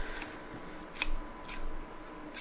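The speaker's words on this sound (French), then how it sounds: "c'est des ciseaux pour découper le cuir" Leather scissors cutting a 3 mm thick leather offcut, giving a few close, crisp snips in quick succession with quiet handling between them.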